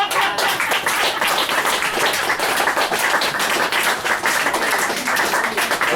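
Audience applause after a reading at a book release event, a dense steady wash of many hands clapping that stays loud and even throughout.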